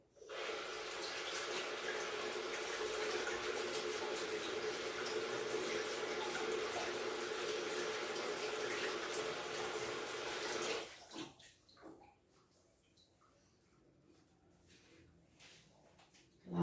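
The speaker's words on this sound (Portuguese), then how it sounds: "lavando a mão aqui um pouquinho" Hands are washed under a running kitchen tap after kneading cream cookie dough, a steady broadband rush of water for about eleven seconds that stops abruptly, leaving faint drips and handling sounds.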